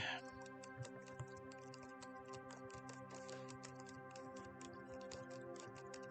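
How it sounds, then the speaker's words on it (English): Soft, steady tapping of Acer Predator Triton 500SE laptop keys, a quiet and even clatter over a faint background hum. "Here's what the keyboard sounds like."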